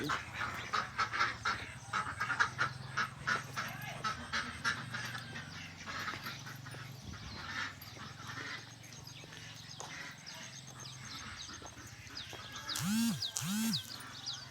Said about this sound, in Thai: ผู้ใหญ่จะเลี้ยงเป็ดด้วย